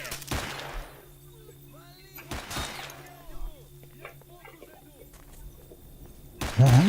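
In the video game S.T.A.L.K.E.R. with the Shoc mod, loud single gunshots crack out near 0.3 and 2.5 seconds amid faint birdsong, followed by sparser distant shots and a louder burst at the end.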